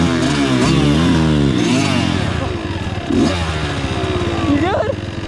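A dirt bike engine revs hard and close while the rider pops wheelies, its rising and falling buzzy drone rapidly climbing in pitch with loud throttle bursts and some clatter.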